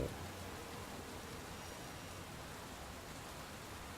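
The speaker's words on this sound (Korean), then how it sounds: "진짜 비 오는 것 같네, 소리가." Steady, soft rain hisses evenly and continuously in the horror game TwinSoul, a quiet wash of falling water with no talk or other events.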